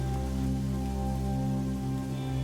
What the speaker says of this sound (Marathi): त्याचे झरे बघा कशा प्रकारे जमिनीवरून व्हावतात